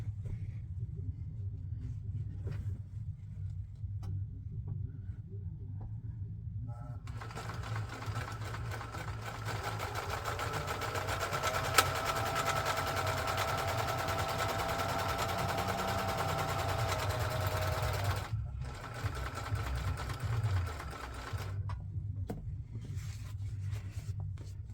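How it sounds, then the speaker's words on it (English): A Singer 14U34 serger with a faulty speed controller stitching a frayed fabric edge to a clean one, running in a steady mechanical whir for about eleven seconds over a low motor hum, then stopping. "So we'll put a frayed edge up against a nice edge. Okay, and we'll sew them together."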